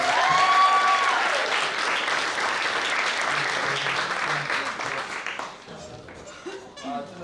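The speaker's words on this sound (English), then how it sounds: "Let's have an applause here." Wedding guests applaud loudly, with whoops and a little laughter, and the clapping thins out and fades toward the end as voices begin to come through.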